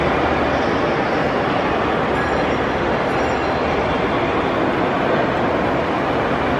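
A large ride-on miniature train rumbles through the big indoor CNY NRHS Train Fair hall, a loud, steady rolling roar with continuous rail noise and a dense crowd hubbub mixed underneath, heard close by throughout.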